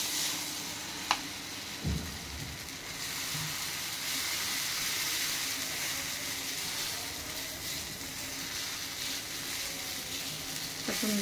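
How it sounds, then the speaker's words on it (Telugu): Uttapam made from wheat flour and dosa batter sizzles on a hot pan with a continuous, even hiss, opening with a couple of soft knocks as the batter goes on. "ఇక వేడి పెట్టిన పెంక వేడిగా ఉంది. పెంక మీద వేసేసుకుందాం."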